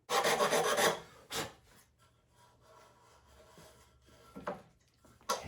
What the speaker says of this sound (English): Okay, start sanding.